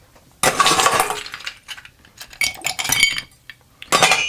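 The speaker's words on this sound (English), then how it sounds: "We're going to add some ice." Ice cubes clatter and clink into a Sazerac cocktail base in a glass, sounding as three loud rattling bursts with short pauses between them.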